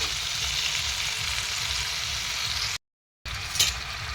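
Fish frying in a pan while being turned and stirred for a curry with green peas and cauliflower, a steady close sizzle with a short cut partway and a faint clink of a utensil afterward.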